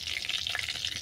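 Asafoetida and dried red chillies fry in hot oil with a steady, bright, crackling sizzle, close and continuous, with no voices over it.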